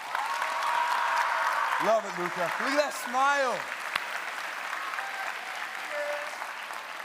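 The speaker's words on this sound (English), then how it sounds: "Round of applause for them." Crowd applause at a leadership summit keynote, steady clapping across the room with a voice speaking over it partway through.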